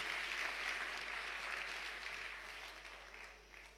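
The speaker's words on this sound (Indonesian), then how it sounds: "Tepuk tangan yang meriah begitu." A church congregation at an anniversary service applauds throughout, a steady, fairly faint wash of clapping that slowly fades toward the end.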